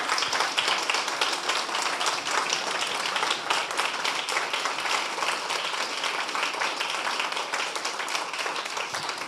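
Steady, dense applause from a conference audience at a closing session, many hands clapping continuously and evenly at moderate loudness with no talk over it.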